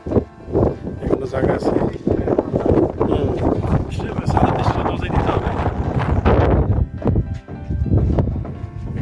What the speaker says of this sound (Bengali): প্রচুর বাতাস একদম খোলামেলা